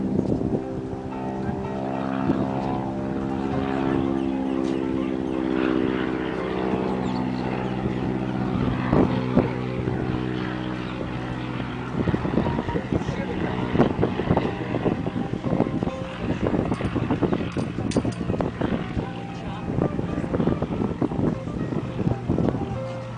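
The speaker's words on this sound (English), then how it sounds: "Ken's wagging his wings. That means he's getting ready to come into land." A small airplane flying overhead as it prepares to land, a steady droning engine hum with wind buffeting the microphone, fairly loud and continuous throughout.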